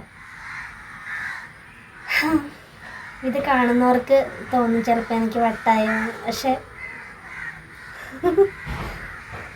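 Crows caw in a flock in the evening around five o'clock; repeated harsh calls continue steadily beneath a person talking close by.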